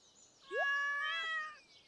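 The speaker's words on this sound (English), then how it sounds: "Oh, there's the cat." A cat gives a single clear, drawn-out meow in the Stardew Valley video game, close and alone against a quiet background, lasting about a second.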